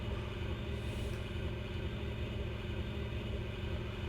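Left engine of an Embraer 110 turboprop spooling up during start in Microsoft Flight Simulator 2020, a steady low rumble with a rising whine layered on top, continuous and fairly quiet with no talk.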